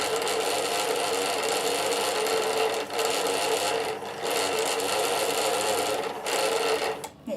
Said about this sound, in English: So it's quite handy being able to wind your bobbin while you've already got your